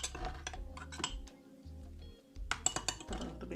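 Utensils clinking against a bowl while blended seasoning is mixed for Jamaican-style homemade fried chicken, a run of light, irregular clinks and scrapes, close and moderately loud, with no talk.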